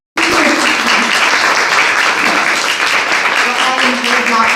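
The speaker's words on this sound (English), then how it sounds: "Everybody give Lisa a big round of applause" Sustained audience applause for Lisa after her presentation on why teachers leave teaching, a dense, steady wash of clapping starting abruptly and continuing at even loudness throughout.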